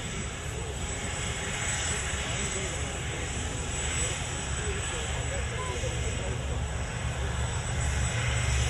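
A vintage aircraft at the Coventry air show takes off, tail wheel raised, with a steady, loud engine roar sustained throughout, under a faint voice of commentary.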